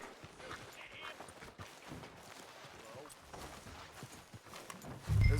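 Horse hooves clip-clopping in Red Dead Redemption 2, a steady run of light, fairly close hoofbeats under speech and background ambience, ending with a louder low thump.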